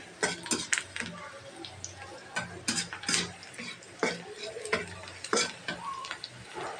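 Chopped onion fries in oil in a wok while a spatula stirs it, making a soft sizzle under repeated sharp scrapes and clicks of metal against the pan, close and fairly quiet.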